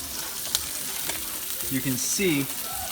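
Salmon sizzles and fries on a grill, a soft continuous crackle with a few brief pops and clicks, fairly quiet throughout.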